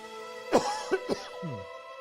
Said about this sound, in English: I've got a cough again.